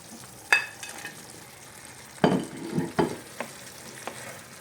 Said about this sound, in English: Get all the bacon all nice and coated.